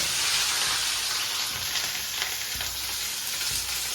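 Onions and chilies fry in a pan for Kathiyawadi dahi tikhari, giving a steady, close sizzle and hiss with occasional stirring scrapes and no talk.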